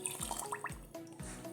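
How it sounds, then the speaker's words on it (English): Water pours into a blender over peeled bananas, a close gurgling trickle broken by repeated low glugs and drips in a short burst. "Next, we'll be adding our water."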